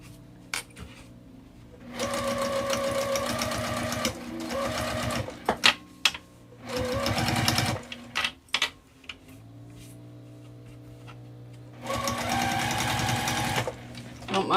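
A sewing machine stitches a wristlet in three separate runs, each a few seconds of steady buzzing, with clicks and handling noises in the pauses between them.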